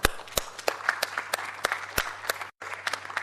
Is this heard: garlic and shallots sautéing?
no